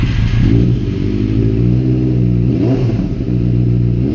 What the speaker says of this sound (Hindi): तो भाई बनेली का साउंड सुन सकते हैं आप लोग